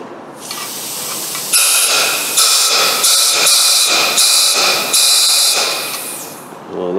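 Soapy water sprayed into a valve port of a Jeep 4.7 cylinder head, a loud close hiss in a series of pulsing bursts from a spray bottle.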